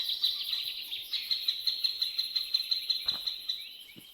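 Birds in a Minecraft swamp give a rapid, rhythmic run of high chirps that repeats steadily for several seconds, with a couple of faint low taps near the end.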